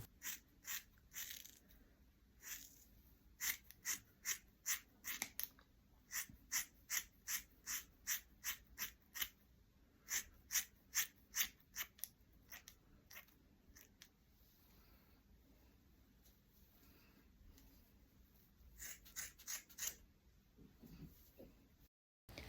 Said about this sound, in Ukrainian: Знаходимо косичку, до якої ми доплітали своє волосся, і далі зрізаємо самі кудрі.